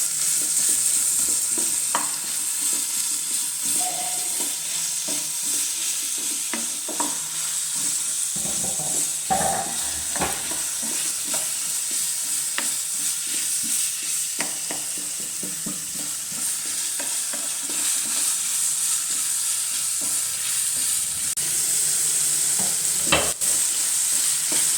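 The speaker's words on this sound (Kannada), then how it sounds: "ಈಗ ಎಲ್ಲ ತರಕಾರಿಗಳನ್ನ ಹಾಕಿ ಹುರ್ಕೊಳ್ತಾಯಿದ್ದೀವಿ" Carrots, potatoes and beans for a vegetable biryani fry in oil under steady sizzling while a utensil scrapes and stirs them in irregular strokes, close and continuous for about twenty-five seconds with no talking.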